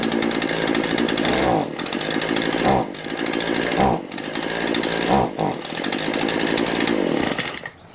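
A Shindaiwa edger engine at half choke buzzes loud and close. It revs up and falls back in repeated surges about every second, with brief dips between bursts.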